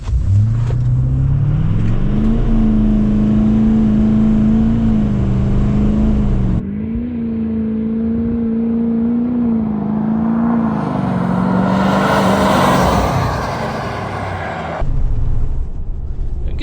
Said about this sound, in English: in Kyle's truck for the 0 to 60. See how she does